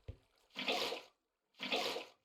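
Two short gushes of flowing water from Minecraft, each about half a second long with a brief gap between, preceded by a faint click, with no talking.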